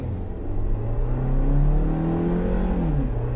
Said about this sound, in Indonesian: raungannya tuh kayak suara R3 ya, emang mesinnya sama sih ya, jadi agak berisik.